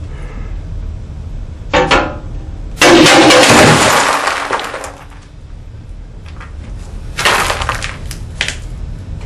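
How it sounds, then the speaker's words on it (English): A glass shelf dropped in a drop test shatters, with a short crack early on, then a loud burst of breaking glass and tinkling shards, followed by a later clatter of pieces, close up with no voices. "I think the glass break"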